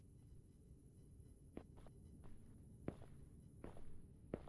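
Footsteps in the horror game Last Night, soft scattered steps with a few sharper heel clicks at uneven intervals over a low room hum, quiet and somewhat distant.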